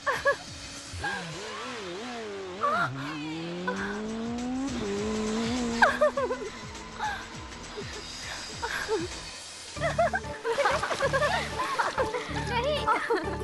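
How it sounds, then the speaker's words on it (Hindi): A motorbike stunt scene in a Hindi-dubbed South Indian action movie brings squealing, skidding tires over revving engine noise, with sweeping screeches rising and falling, then busier sharp bursts near the end. "तुमने देखा था ना कितनी जबरदस्त बाइक चला रहा था वो"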